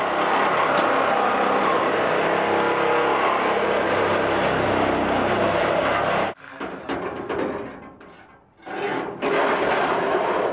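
A 2003 Sprinter van driving into a work area, its engine a steady close rumble that briefly drops away to quieter knocks and rattles before the drone returns.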